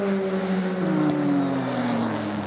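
A Porsche prototype race car at Spa-Francorchamps during the 2016 FIA WEC 6 Hours, its engine a loud sustained roar with a steadily falling pitch as it passes and pulls away, alongside other cars.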